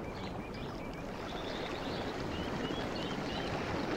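Gentle water sloshes softly and steadily against a boat's side, a low continuous lapping with faint trickling, calm and close, with no voices.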